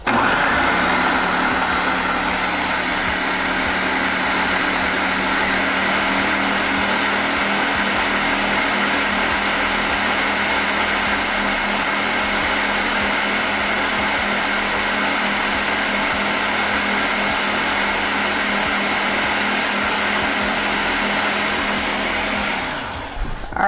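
A Power AirFryer Oven runs its mix function on stuffed squash and sweet potatoes, a loud, steady motor whir with a constant blade-like drone that holds for over twenty seconds before cutting off abruptly.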